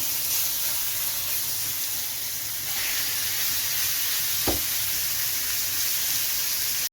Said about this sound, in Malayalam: നമുക്ക് ഈ ചിക്കൻ ഇതിലേക്ക് ചേർത്ത് കൊടുത്ത് നമുക്കിതൊന്ന് ഫ്രൈ ചെയ്തെടുക്കാം